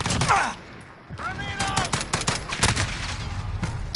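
Rapid gunfire in Call of Duty Modern Warfare rattles in close, sharp bursts against a wall, with crackling impacts and brief gaps, loud and overlapping scattered player talk.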